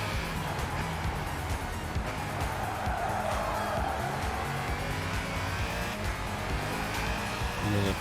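A race car in Gran Turismo 5 driven at full throttle out of a tight hairpin at the AMG Driving Academy, its engine droning steadily and rising in pitch, with tire squeal and a climbing whine near the end.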